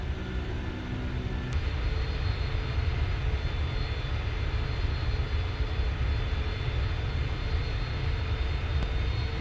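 Boeing 747F freighter engines roar in the flight simulator FSX, a steady, loud broadband jet rumble with a constant whine running unbroken throughout.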